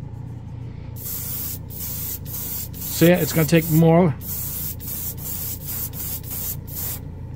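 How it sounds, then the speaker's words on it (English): Steady hiss of an airbrush spraying paint onto a spoon in repeated bursts with brief gaps, close by, with a voice speaking briefly midway. "Let's spray a spoon."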